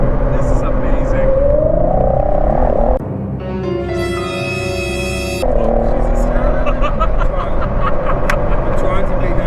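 A Ford GT with a V6 engine gives a rough, droning growl that swells and falls as it revs, with a brief higher-pitched burst in the middle, loud and close under excited voices talking.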